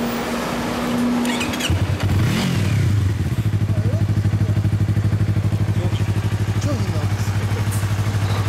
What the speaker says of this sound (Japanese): ごめんなさい、エンジンを聞かせてもらって